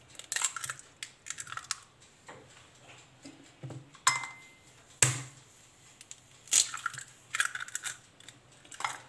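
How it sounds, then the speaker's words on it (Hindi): Eggs cracked one after another into a large bowl while making a layered brownie batter, giving several sharp cracks and taps with soft clatter between them, close and fairly quiet, with no talking. "एक बड़ा सा बाउल हमने ले लिया और इसमें हम लोग सबसे पहले डालेंगे अंडे।"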